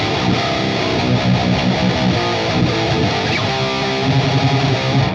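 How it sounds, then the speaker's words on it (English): A 7-string electric guitar pounds heavy, thickly distorted power chords in a steady loud wall of metal rhythm with low chugging, close and unaccompanied by any voice. "we also hear those super heavy power chords being played"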